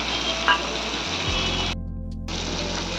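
Spice paste (masala) being fried and stirred in a pan for an egg curry, a loud continuous close sizzle with scraping stirs, the hiss briefly dropping out near the end before resuming.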